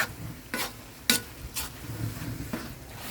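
Pork fat sizzles in a pan while alamang shrimp paste is sautéed and stirred, a steady soft frying hiss broken by several sharp scraping strokes of a spoon against the pan.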